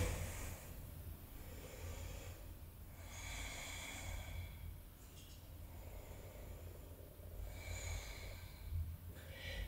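Slow, deep breaths during a yoga pose in a vinyasa class, each inhale and exhale a soft airy rush repeating in a steady rhythm close by, with no talking.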